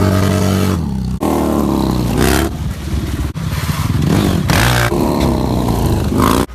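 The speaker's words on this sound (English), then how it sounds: "the Harley Davidson guys are about to do some stunt riding" Harley-Davidson motorcycles doing stunt riding at a MotoAmerica race event in Pittsburgh: loud, continuous engine roar with repeated revving swells and brief drops in throttle, close by.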